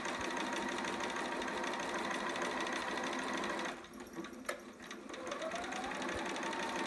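A sewing machine stitches steadily along the edge of fabric for a romper, a continuous whirring hum that briefly drops off near the middle before the motor picks back up.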